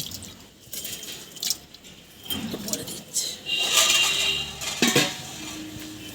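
Rice tipped into a cooking pot for winter khichuri with mutton fat, followed by a lid set on top: watery splashes, drips and light metallic clinks of the pot, in short uneven bursts up close.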